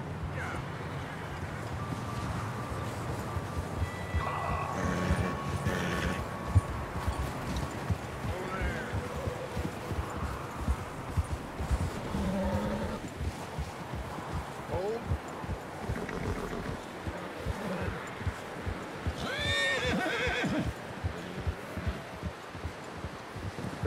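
Steady clip-clopping hooves of horses walking over ground in Red Dead Redemption 2, with rustling and occasional animal sounds, as people talk over the riding.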